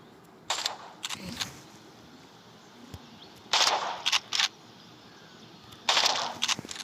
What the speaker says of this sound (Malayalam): നമ്മൾ 3 വെടിക്ക് തീർന്നിട്ടുണ്ട്.